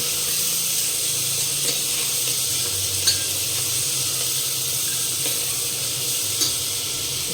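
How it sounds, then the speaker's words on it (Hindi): Chopped onions sizzle steadily in a hot pan while a strainer spoon stirs them, the frying hiss continuous and close, broken by a few light clicks and scrapes of the utensil. "इसको भी हम भून लेते हैं"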